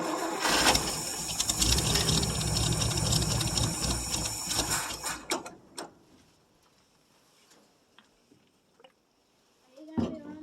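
A 1959 International B120 4x4 truck engine cold starts after about five years sitting, heard as a loud, rough cranking and running roar that stops abruptly, followed by quiet clicks and a short clunk, with voices nearby.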